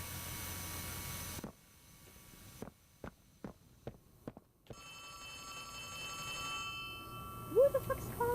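In the video game Poppy Playtime Chapter 4, a phone rings in a series of short, evenly spaced electronic pulses that break through low background hum before a droning ambience returns.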